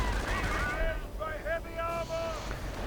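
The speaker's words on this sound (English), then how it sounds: "Sniper unleashes fury on the Germans." Gunfire and explosions from a World War II real-time strategy game battle with snipers, tanks and artillery, rumbling constantly under a noisy wash with whistling tones, no voices.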